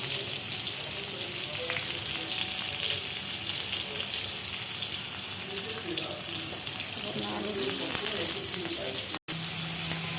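Fish and onion frying in a pan, a dense continuous sizzle with occasional spatters and faint clatter, steady and close throughout, briefly cut off near the end.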